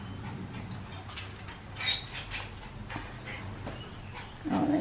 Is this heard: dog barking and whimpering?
yes